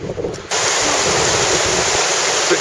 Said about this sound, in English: bit closer to the waterfall now